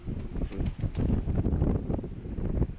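A pigeon's wings flap in quick, fluttering bursts, fairly close and steady, with a faint breezy hiss behind them.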